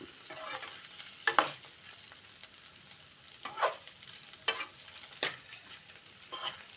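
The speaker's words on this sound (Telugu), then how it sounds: "తక్కువ నూనెతోటి చక్కగా ఫ్రై అవుతున్నాయి ఇవి" Okra frying in a pan with little oil, a faint low sizzle broken by about six short scraping bursts as the pieces are stirred, quiet and close.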